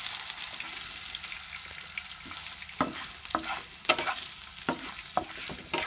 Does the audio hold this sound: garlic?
yes